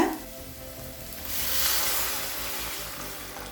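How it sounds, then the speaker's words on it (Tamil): A steady hiss of water heating in a pan for upma swells after a second and holds, a broad bubbling rush with no speech over it. "இப்போ தண்ணி நல்லா கொதிக்க ஆரம்பிச்சிருச்சுங்க"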